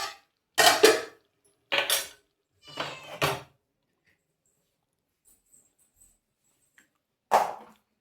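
Gongura chutney ingredients are pounded in a stone mortar: four sharp, separate thuds in the first few seconds, a long quiet gap with faint small knocks, then one more strike near the end.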